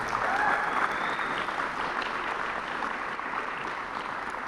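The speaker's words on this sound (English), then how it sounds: "so please give them a round of applause" A press conference audience gives a steady, even round of applause that carries on without a break, with no voices heard over the clapping.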